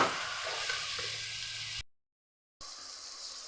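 Snake gourd gravy being stirred in a pan with chilli, turmeric and coriander powders, a steady close sizzling and scraping wash that drops out abruptly partway through and then resumes.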